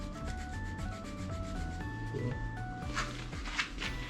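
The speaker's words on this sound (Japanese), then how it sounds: "ここをヤスリがけしていきます。" Sandpaper rubs back and forth over a punctured bicycle inner tube, roughening the rubber before a patch goes on. The steady scratchy rubbing runs throughout, partly masked by tuneful background music.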